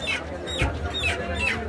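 Chickens at a poultry market cluck and squawk in short close calls under a busy, noisy background.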